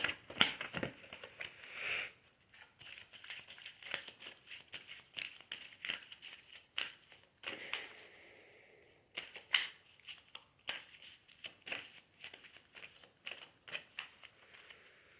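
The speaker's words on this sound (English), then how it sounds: "I'm going to shuffle this only a few times" A deck of angel cards is shuffled by hand in several quick bursts of papery riffling and flicking, fairly close and quiet, with brief pauses between rounds and no talking.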